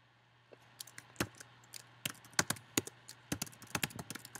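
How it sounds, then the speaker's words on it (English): Someone types a name and email address on a computer keyboard, a close run of irregular clicking keystrokes in short bursts over a faint steady hum. "I'm going to type my name and email address in there"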